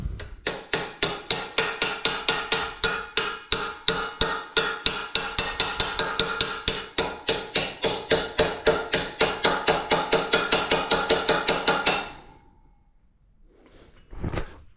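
Rapid, steady hammer blows driving bearings into a BMX bike frame, dozens of sharp metallic strikes close up for about twelve seconds, then a pause and a brief final knock.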